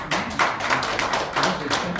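An audience at a parliamentary forum claps to welcome a lawmaker coming up to give congratulatory remarks, brisk evenly spaced hand claps forming a steady burst of applause.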